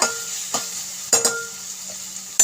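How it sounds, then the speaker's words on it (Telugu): Turmeric frying in a pan, a spoon scraping and tapping the pan in a few separate strokes over a faint, steady sizzle. "అలానే కొంచెం పసుపు వేసుకుందాం వేగిస్తారండి ఇలా"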